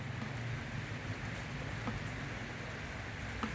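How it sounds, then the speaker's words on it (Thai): Steady rain falling around a temple ordination hall under restoration, a soft continuous hiss with scattered faint drops, fairly quiet and without voices. "แต่ตอนนี้ฝนตก"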